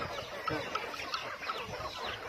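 Several chickens clucking in short, repeated bursts, fairly close, on a sheep farm with ducks, sheep and pigs, with a busy farmyard murmur behind them and no talking.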